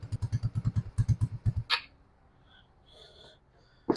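An RPS ATV150 sport quad's engine cranks with a rapid rhythmic chugging of about a dozen pulses at close range, then cuts out into quiet hiss with faint brief high tones afterward.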